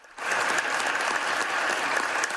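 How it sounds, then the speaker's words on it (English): A rare round of applause breaks out on the Senate floor after Mitch McConnell's speech, a dense, steady wash of clapping from many hands that starts abruptly and holds loud and unbroken. "His speech drawing a rare round of applause on the Senate floor"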